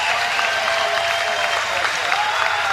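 Arena crowd applauding and cheering steadily after a twelve-round boxing main event, a dense, continuous wash of clapping at full volume with no break.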